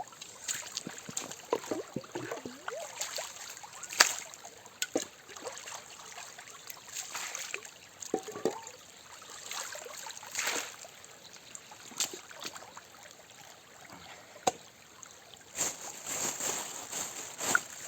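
Wild mushrooms are washed by hand in water with sand, producing faint, intermittent sloshing, trickling and splashing at close range.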